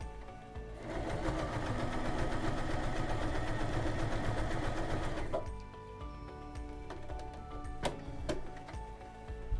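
A 3112 RD series domestic sewing machine runs a decorative zigzag stitch through layers of denim in a steady whirring, rattling burst for about five seconds, then stops with light mechanical clicks.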